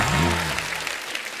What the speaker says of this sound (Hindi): अभिमन्यु जी के लिए जोरदार ताली